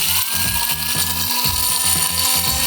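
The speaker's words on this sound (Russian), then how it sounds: "Прекрасный звук кофемолки." An electric coffee grinder pulverizing dry Doshirak instant noodles, giving a steady loud whirring grind with a rhythmic rattling, ratchet-like chatter throughout, no voices.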